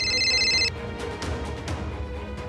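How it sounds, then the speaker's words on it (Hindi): A telephone rings at the Chief Minister's residence in Dehradun, a bright electronic ring for under a second that cuts off, followed by a dramatic musical thump and low rumbling tones. "उत्तराखंड की राजधानी देहरादून में मुख्यमंत्री आवास पर फोन की घंटी"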